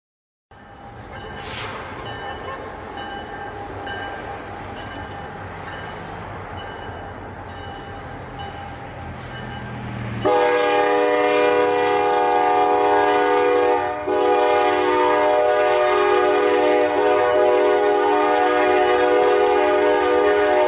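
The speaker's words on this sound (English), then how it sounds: "Car enters snowy tracks and is struck by a moving train" A train moves along snowy tracks where a car has entered the crossing. A low rolling rumble builds, then a loud, sustained horn blast blares close by for several seconds, with a brief break before it continues.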